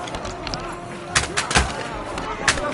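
Gunfire in a medieval battle in Kingdom Come: Deliverance II sounds as several sharp, close bangs in quick, uneven succession over a busy clamor of combat.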